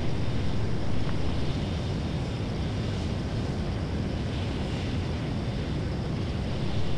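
A jet aircraft in a flight simulator game coming in to land, a steady broad roar of engine and rushing air with a faint high whine, constant and without speech.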